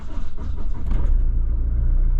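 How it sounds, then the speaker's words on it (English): A 3.2 litre Mitsubishi Pajero diesel engine cranks on its starter motor and catches. It settles into a steady, loud, close idle rumble, and no distinct clicking stands out. "the car did start there, but there was a fair bit of clicking"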